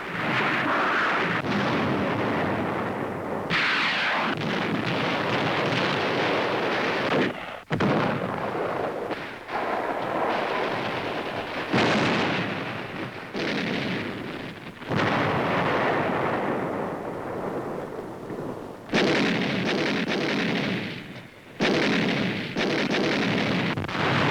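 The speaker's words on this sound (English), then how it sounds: "Beating back Japanese delaying actions, the troops blast their way through." Heavy artillery and gunfire from the 1945 battle for Manila roar in long, dense booming bursts, loud and continuous with brief gaps between barrages.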